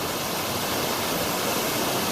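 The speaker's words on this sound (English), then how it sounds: "cool waterfall on a hot day" Steady broadband rush of a waterfall at a popular hiking spot near Taipei on a hot weekend day, a constant close roar filling the whole clip with no talk.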